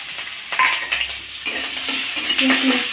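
Onion and chili fry lightly in a pan beside cooked beef tripe, a close sizzle broken by a few scraping stirs of a spatula against the metal.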